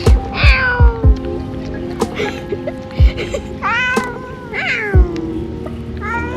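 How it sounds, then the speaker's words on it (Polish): A cat meows repeatedly in drawn-out, rising and falling calls, loud and close, with several sharp thumps between the cries. "jest nadzwyczajny kot, on po prostu potrafi rozmawiać."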